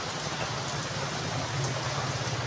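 Heavy afternoon rain pours in a steady, dense hiss of drops on surfaces, loud and continuous throughout with no voices over it.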